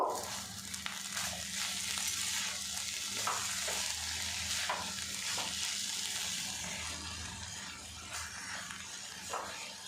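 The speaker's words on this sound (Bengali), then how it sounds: "একসঙ্গে ভালো করে মিক্স করে নেব।" Cauliflower with boiled peas and chillies sizzles in a pan as a spoon stirs and scrapes it, a soft, steady frying hiss broken by light irregular scraping strokes, with no voices.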